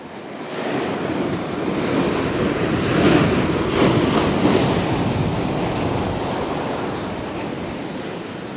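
Ocean waves break and wash in a continuous roaring surf, loud and close, swelling slightly in the middle, with wind buffeting the microphone and no voices.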